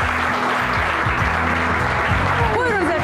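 Studio audience applause on a Turkish daytime talk show, steady and fairly loud, mixed with a music sting and some voices for about three seconds.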